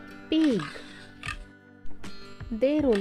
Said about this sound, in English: P-I-G, pig.